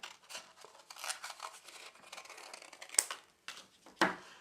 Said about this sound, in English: So we'll just cut a piece out like this.